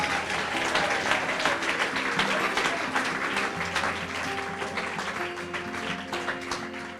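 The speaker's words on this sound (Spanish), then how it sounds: "Denle un aplauso si quiere alabar al Señor" A church congregation claps in praise during a sermon, dense applause over a sustained musical backing of held tones, with some faint voices mixed in, filling the whole stretch at steady volume.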